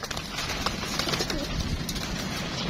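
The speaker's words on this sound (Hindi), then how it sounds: "ये देखें सारे कबूतर देखें माशाल्लाह।" Pigeons coo softly amid a busy, rustling background, with soft fluttering and low murmuring calls from several birds nearby.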